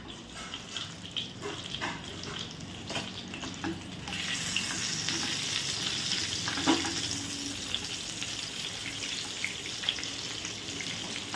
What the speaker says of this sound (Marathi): मीडियम गॅसवर ह्याला तेलात असं व्यवस्थित असं फ्राय करून घ्यायचं आहे